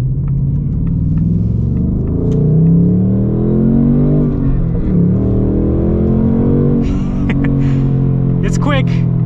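A 2024 Ford Mustang Dark Horse with a manual gearbox pulls hard under acceleration, its engine drone rising and swelling loud and close from inside the cabin, with a brief shift dip midway.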